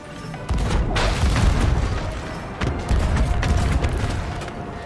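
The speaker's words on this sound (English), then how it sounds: "They're trying to cannon us." Ship cannons booming in the pirate game Sea of Thieves, a dense, continuous roar of heavy blasts and rumble across the whole stretch, with a fresh burst near the middle.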